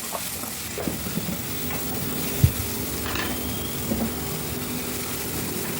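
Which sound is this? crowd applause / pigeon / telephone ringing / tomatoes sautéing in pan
tomatoes sautéing in pan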